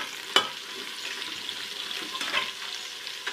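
Green chillies and ginger-garlic paste fry in a pan for a whole masoor daal, giving a soft, steady sizzle with a few sharp spoon scrapes as they are stirred. No one speaks.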